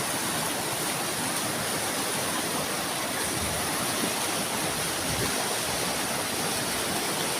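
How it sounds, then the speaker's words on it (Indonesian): A fast-flowing river rushes through a remote Sundanese village, a loud, steady, unbroken roar of churning water close by. "Airnya sangat deras ya."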